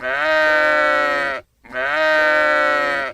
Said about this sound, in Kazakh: Ал бұл бізде қошқар немесе қой.